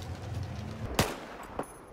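An L85A2 rifle fitted with a muzzle brake fires in Battlefield 4, two sharp close shots about half a second apart, the first louder, over a low background hum.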